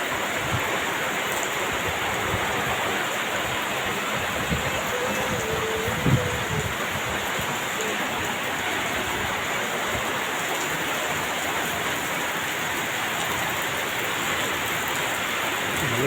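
Heavy rain pours down on a Sunday afternoon, a dense, loud and constant hiss of drops on surfaces that holds steady throughout, with no voices.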